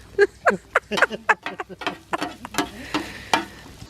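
Peppers and onions cook on a hibachi-style grill, with repeated scraping and tapping strokes in a steady rhythm over a faint sizzle, close and moderately loud, with no talking.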